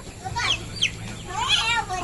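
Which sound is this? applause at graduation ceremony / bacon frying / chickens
chickens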